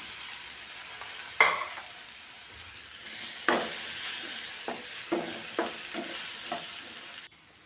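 Ripe nendran banana slices sauté in two spoons of ghee in a pan, a steady sizzle running throughout with several sharp scraping stirs of a spoon against the pan, close and fairly loud, no voices.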